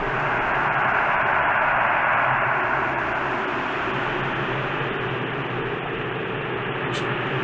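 Ambient space static from a space soundscape library forms a steady, dense hiss with a low rumbling bed, continuous and fairly loud with no talking.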